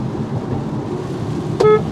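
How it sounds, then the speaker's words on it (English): Low thunder rumbles steadily through a thunderstorm, a continuous deep roll that stays at even strength, with a brief high-pitched tone cutting in near the end. "That thunder's nothing."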